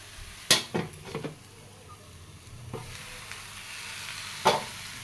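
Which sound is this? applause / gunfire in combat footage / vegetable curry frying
vegetable curry frying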